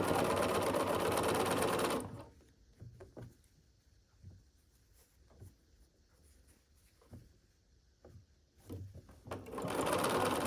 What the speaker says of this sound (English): once the first 2 columns are sewn together, we'll just add in the third